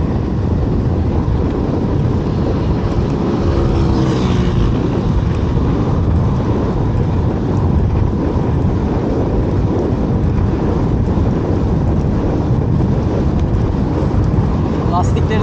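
Wind roars steadily across a microphone while cycling on a road toward Çamlıköy near Marmaris, a loud, unbroken low buffeting that fills the whole stretch and masks most other sound.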